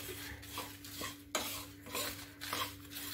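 Spoon scraping and stirring chili powder and grated coconut in a hot pan over a low flame for dry coconut chutney powder, with faint repeated scrapes and clinks and a soft sizzle.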